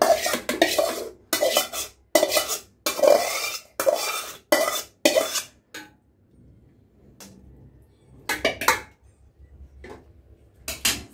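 Chicken meat spooned in layers into a pot of basmati rice biryani: a run of close, regular clanking scrapes of a spoon against the metal pot, then sparser clinks after a short pause, no talk.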